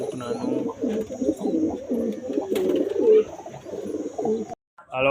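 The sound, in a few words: pigeons cooing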